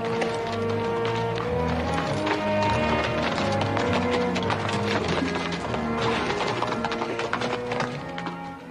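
Horses' hooves clip-clop in a steady running rhythm, fairly close, with music playing underneath throughout, from a 1966 television western.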